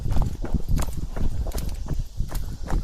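Close, irregular footsteps of a person walking and jogging with a neck-mounted camera, each step a dull thud in a loose, uneven rhythm with some rustle between strikes.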